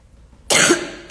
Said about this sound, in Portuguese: Desculpa aí da tosse.